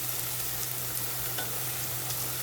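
Onions fry and sizzle steadily in a pan as they turn golden for a potato and egg curry, a constant close hiss with occasional soft stirring scrapes and a low hum beneath.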